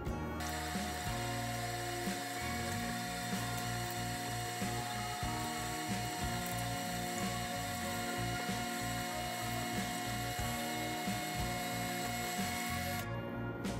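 Meat grinder coarsely grinding pork for servelat sausage, a steady loud mechanical churn and whir with ratcheting clicks running continuously throughout, with no talk.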